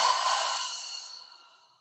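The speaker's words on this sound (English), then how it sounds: "Long exhale." One long, slow exhale during a yoga breathing exercise, a soft airy breath close to the mic that starts full and fades gradually to silence over about two seconds.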